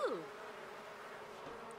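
Bees buzz around a hive in the life-simulation game The Sims 4, a soft steady drone with a brief louder swell at the start, faint and alone.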